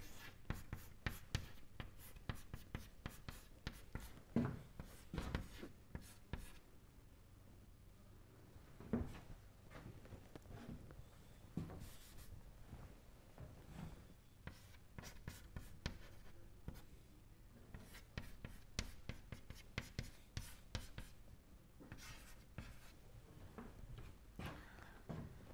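Chalk or marker taps and strokes on a board during an engineering lecture on electrokinetics, a quiet, steady scratching and tapping that keeps going for the whole stretch without talk.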